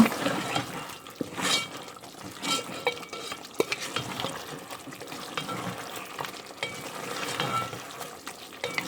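Mutton bhuna is stirred in a pot, a close, uneven run of wet scraping and stirring strokes with a low bubbling sizzle underneath and occasional sharp knocks of the spoon.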